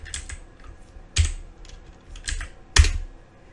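Keys clacking on a computer keyboard as an IP address is entered, a handful of sharp close keystrokes in uneven bursts with short pauses, no voices.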